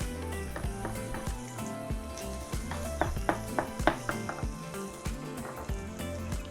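Guanciale frying in a pan over medium-high heat gives a steady, faint sizzle with light scattered crackles and occasional clinks, heard alone without talk.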